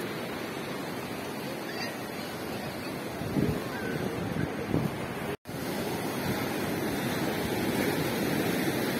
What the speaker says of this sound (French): on entend le bruit de l'eau sur les galets